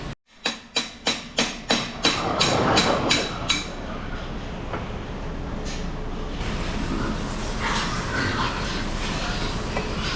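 Around a dozen sharp metallic hammer blows strike a stuck metal part on a deck in quick, evenly spaced succession, loud and close, then give way to a steady mechanical rumble with no talking.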